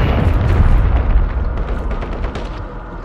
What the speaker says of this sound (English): I have the cruise missile approaching target.